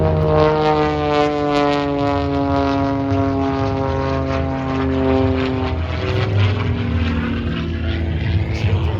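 Hammond Super Chipmunk aerobatic propeller airplane performing at an Oregon air show, a loud sustained droning engine with a steady propeller buzz whose pitch slowly shifts as the plane moves through the sky.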